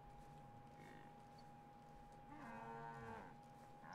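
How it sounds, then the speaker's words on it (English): A herd of cows in the video game DayZ, with one long, tonal moo swelling near the end over quiet game ambience and a faint earlier call; no speech. "Oh my God. It's a whole herd of cows."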